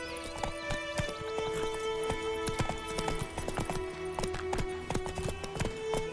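Hooves of Roach, a horse in The Witcher 3 video game, clip-clop in a steady trotting rhythm over a backdrop of game music.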